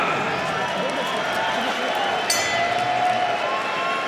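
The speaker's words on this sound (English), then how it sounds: "Crowd giving these guys a hand." A boxing crowd applauds and cheers after a round between Kohei Kono and Koki Kameda, a steady wash of clapping and noise that continues beneath a commentator's voice.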